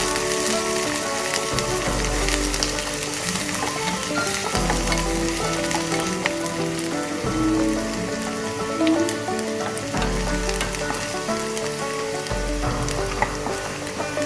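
Onion and other ingredients for a Malvani kingfish dish sauté in a pan with a steady, loud sizzle and crackle throughout, broken by occasional low scraping stirs, close and continuous with no talk.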